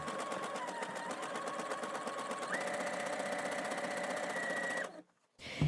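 A sewing machine stitches underarm elastic onto an underwire bra, running steadily at close range with a rapid even hum that shifts pitch partway through, then stops abruptly near the end.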